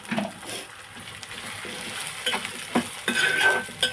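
A medium drumstick (moringa pod) cut into pieces fries in a pan with ginger paste for a tomato curry, a steady sizzle broken by repeated stirring scrapes and clinks of a spoon, close and fairly loud.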